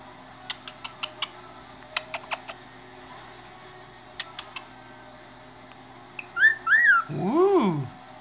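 A pet bird makes a series of sharp clicks and short chirps, then a few close, clear whistles that rise and fall near the end, with no other sound around them.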